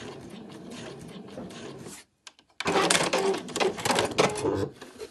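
A sewing machine stitches along a pocket of a handy travel wallet, a moderate steady whir, then pauses briefly before a louder, choppier burst of back stitching.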